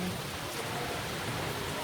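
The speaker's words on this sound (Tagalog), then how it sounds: "Sana ay hindi lumakas ang ulan para naman hindi kami bahain mga best friend" Steady rain falls outdoors as a dense, even hiss of drops on surfaces, moderately loud and unbroken throughout, with no other sound standing out.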